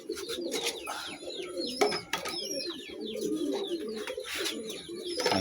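Pigeons coo in low, throaty, repeated calls close by, overlapping one another, with a few higher chirps and light rustling.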